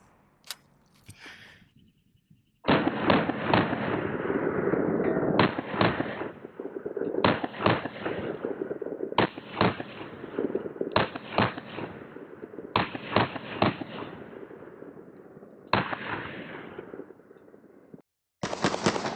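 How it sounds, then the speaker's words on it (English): A UMP submachine gun chambered in .40 S&W fires outdoors at an armor target in about eight loud, sharp bursts of rapid automatic fire, each lasting a second or two and separated by short pauses. "it's going to be coming out of my UMP submachine gun, and we'll try to keep it on target"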